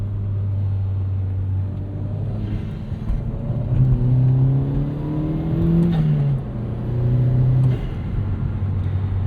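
A 2009 Chevrolet Cobalt SS Turbo drives with a loud, steady engine drone inside the cabin, its pitch climbing and dipping through several shifts and surges of acceleration.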